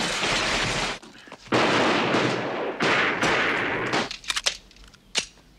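Gunfire and loud broadband bursts from a shootout in the 1984 film Beverly Hills Cop, with sustained noisy blasts followed by several short sharp shots near the end.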